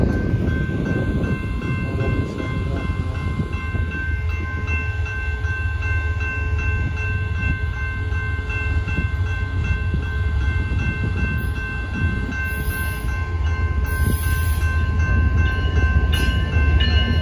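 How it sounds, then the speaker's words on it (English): An eastbound BNSF mixed freight train rolls past a Main Street crossing in Temple, Texas, a steady loud rumble of wagons throughout with faint horn tones near the end. "Here comes another train."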